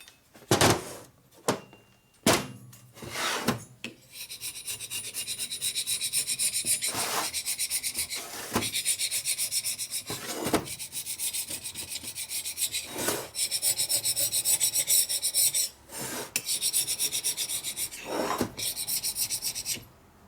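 Scraping leftover gasket material off a 1990s Harley-Davidson Sportster 1200 cylinder head, a close, rough rasping of repeated strokes, with a few separate scrapes at first, then long steady scraping broken by brief pauses.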